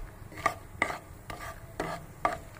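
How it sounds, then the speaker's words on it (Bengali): Whole cardamom, peppercorns, cloves and cinnamon fry in oil, stirred with a utensil; five distinct scraping strokes come at a regular pace over a faint sizzle. "এটা দিয়ে হালকা একটু নাড়াচাড়া করব।"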